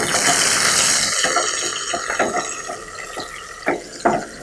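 Two handfuls of sliced onions dropped into hot oil in a pan, a burst of loud sizzling that eases into softer crackling with scattered pops and scraping clicks.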